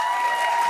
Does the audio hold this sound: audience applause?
yes